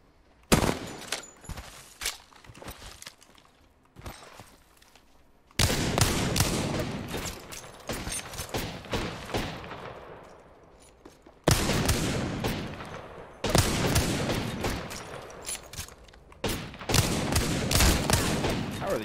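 Gunfire in the video game Apex Legends comes in loud, rapid automatic bursts and scattered single shots, separated by short quieter pauses, with close impact clatter between volleys.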